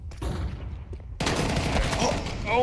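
Mag 7 shotgun blasts in Counter-Strike during a PGL Bucharest 2025 match, a sharp burst of gunfire cutting in after a quiet lead-in, with dense loud shots.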